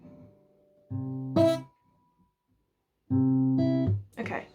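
Two separate plucked guitar phrases, each a few ringing tones played close, with near-silence between them.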